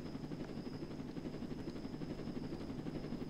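A helicopter in the video game Roblox Jailbreak makes a steady, rapid rotor chop with an engine hum, continuous and fairly faint, with no talk over it.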